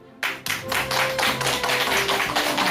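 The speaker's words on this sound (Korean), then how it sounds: "큰 박수로 맞아주시기 바랍니다" Audience applause greets a parenting-education lecturer arriving at a Korean talk, bursting in suddenly and continuing as a dense, steady wash of many clapping hands.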